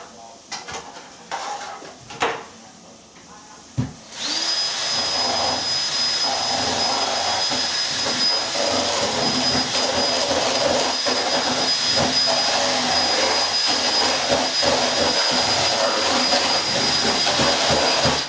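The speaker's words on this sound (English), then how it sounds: "And the thing, it's a drill." A power drill whirs steadily in a home kitchen, mixing a batter with egg. A few knocks and clatters come first, then a loud, continuous motor whine runs without a break.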